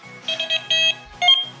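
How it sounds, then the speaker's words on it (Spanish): A Delkim carp-fishing bite alarm beeps as air is blown across it, giving a quick run of bright electronic tones, a short pause, then another burst, close and clear with no voices. "Fijaros que simplemente estoy soplando la alarma"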